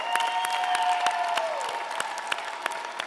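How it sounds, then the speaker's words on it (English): Convocation ceremony audience applauding a graduate, a dense, steady wash of clapping with sharper individual claps, while a sustained organ-like tone glides down beneath it. "Now let's give him a cheer."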